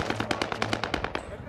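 Rapid automatic gunfire in the video game Warzone, a quick string of about a dozen evenly spaced close shots over a steady in-game background.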